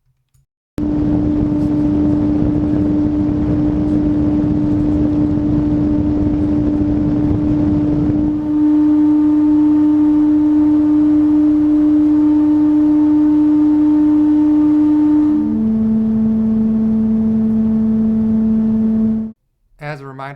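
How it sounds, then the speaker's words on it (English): An Arctic F12 BioniX 120mm case fan runs at a deafening level, about 57 decibels, giving a loud, steady droning hum with a strong tonal whine that holds, then steps to different pitches before stopping abruptly. "the Arctic F12 BioniX actually achieves the same results on average, but it's coming in at a deafening 57 decibels"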